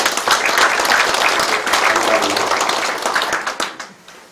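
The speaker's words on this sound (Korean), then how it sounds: "박수 한번 보내주십시오" An audience at a town meeting in Icheon breaks into applause, a dense burst of many hands clapping close by that gradually thins out and fades into scattered claps at the end.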